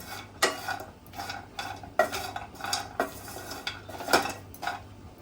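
A metal spoon stirring grated coconut while it warms gently in a pan: a run of about eight distinct clinks and scrapes against the pan at an uneven rhythm, close and fairly quiet, with no talk.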